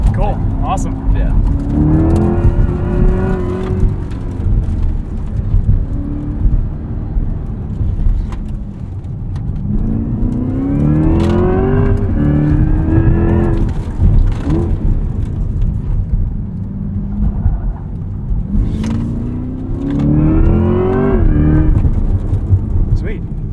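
A 2024 Corvette E-Ray on a race track on PS4S tyres, its engine rising and falling in repeated acceleration surges while drifting, heard from inside the car with voices talking over it.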